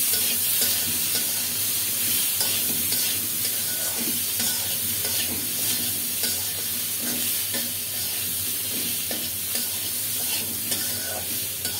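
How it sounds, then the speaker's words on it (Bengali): Chopped onion sizzles steadily in a hot pan while being stirred, with repeated scraping strokes over a continuous frying hiss, close and moderately loud, no talking. "একটু কুচানো পেঁয়াজ দিলাম,"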